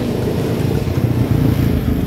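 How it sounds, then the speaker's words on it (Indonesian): A used Honda Beat Street scooter engine revs steadily up close, a continuous low throaty drone with slight surges, heard alone without talk. "Nih kita gas nih."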